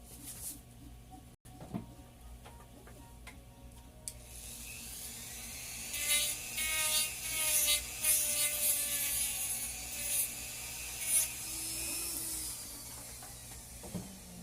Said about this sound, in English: I'm going to grind this little bit out since this screw is slightly long.